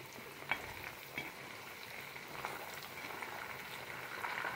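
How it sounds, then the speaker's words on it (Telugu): Lentils and curry leaves sizzle steadily in hot oil for a tempering, a soft, continuous frying crackle with a few small pops, heard close and alone. "పప్పులు ఇవి అన్నీ కూడా దోరగా వేయించుకోవాలి."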